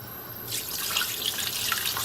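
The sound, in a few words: pouring water into pan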